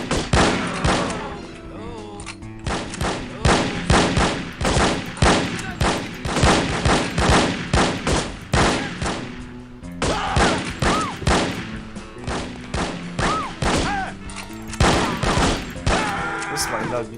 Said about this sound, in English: Can I just shoot him?